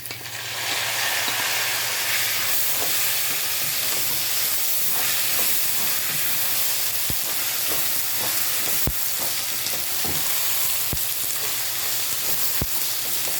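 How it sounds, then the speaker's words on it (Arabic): Tomatoes fry in a pan with a steady, loud sizzle, joined by scattered clicks and scrapes of stirring throughout, with no talk over it. "هشوح بقى فيها الطماطم شويه معاها تمام"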